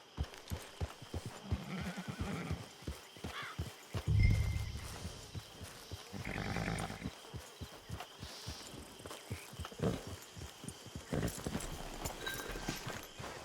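A horse in the Red Dead Online video game clip-clops along at a walking pace with steady hoof beats, snorts a few times and gives a brief whinny, close and moderately quiet.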